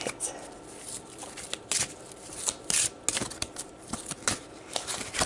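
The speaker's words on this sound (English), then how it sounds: "One more shuffle." Tarot cards being shuffled close up: repeated dry papery riffles and soft card slaps in an irregular rhythm, with a louder flurry near the middle and no speech.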